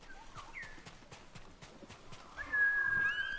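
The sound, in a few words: horse named Plötze neighing, from video game Ghost of Tsushima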